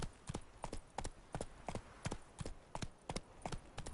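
Hooves of the horse Roach clip-clop steadily in The Witcher 3, a regular four-beat walking rhythm of sharp, close knocks on hard ground with no talk.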